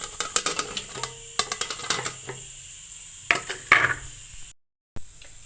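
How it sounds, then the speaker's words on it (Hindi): Onions, bay leaves, ginger-garlic paste, chilli, turmeric and salt drop into a pressure cooker with a little oil, giving a burst of clatters, light sizzling and scraping stirs, then a brief silence and one last knock. "अब हम इस सबको कुकर में डाल देंगे।"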